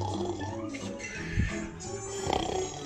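A man imitates snoring while pretending to sleep on a bed, making rough nasal snorts and wheezy breaths in an uneven rhythm, close and fairly quiet.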